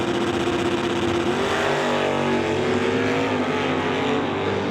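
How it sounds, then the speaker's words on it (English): Drag racing cars, a Chevy Nova and a Chevy II, roar down a quarter-mile strip in a qualifying round, engines loud and sustained with rising revs and no speech over them. "He'll race John Van Derzen in the Chevy 2 this time through for second round of qualifying."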